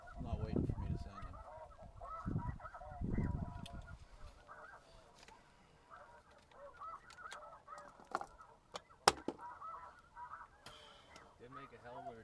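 Snow geese honk in flight during a winter hunt, a dense chorus loud at first, then fading to scattered distant calls alongside a few sharp knocks and light background noise.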